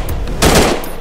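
A rifle fires in a video game, a single loud, sharp shot with a short echoing tail, with no talking.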